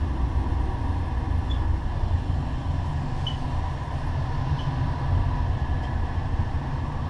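Steady rumble and rattle inside a moving passenger train carriage, continuous and loud with a low roar throughout and no voices.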